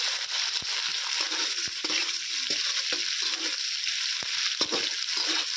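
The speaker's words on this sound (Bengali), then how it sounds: "পেঁয়াজের সঙ্গে টমেটোটাও আমি ভেজে নেবো, যাতে টমেটোটাও যেন খুব ভালোভাবে সেদ্ধ হয়ে যায়" Cut tomatoes fry with onions in hot oil, making a steady sizzling hiss punctuated by sharp clicks and scrapes of a stirring utensil against the pan.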